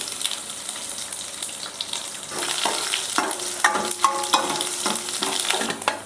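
Steady sizzling of cut garlic frying in a hot pan with dried red chilies, with occasional scraping and stirring clicks growing busier partway through; no one speaks.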